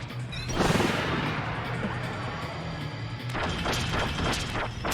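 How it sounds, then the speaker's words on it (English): An icy explosion goes off in Kirby's Return to Dreamland Deluxe, a loud crashing burst followed by a sustained rumbling, crackling wash, with game music tones underneath and more bursts near the end. "Oh, it's an icy explosion."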